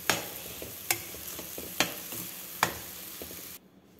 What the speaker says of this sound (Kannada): ಇದನ್ನು ಚೆನ್ನಾಗಿ ಮಿಕ್ಸ್ ಮಾಡ್ಕೊಳ್ಳೋಣ, ಲೋ ಫ್ಲೇಮಲ್ಲಿ ಸಿಮ್ಮಲ್ಲಿ ಇಟ್ಕೊಂಡು ಮಿಕ್ಸ್ ಮಾಡ್ಕೋಬೇಕು